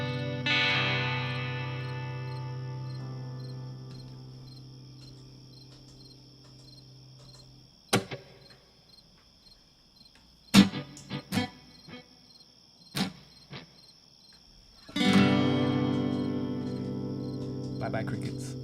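Crickets chirp steadily in a loud, shimmering trill that fades down, then returns with sharp clicks and a renewed burst toward the end.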